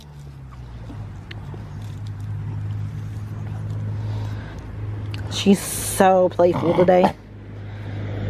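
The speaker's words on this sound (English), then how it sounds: "It's a truck." A truck passes nearby as a low, steady engine rumble that slowly grows louder, while someone talks affectionately to her dog over it.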